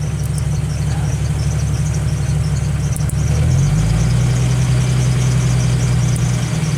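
A Jeep Wrangler engine drops from a raised speed back to idle, a loud close mechanical drone that falls in pitch partway through and then settles into a steady idle.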